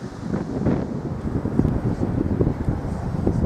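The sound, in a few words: wind over Acadian landscape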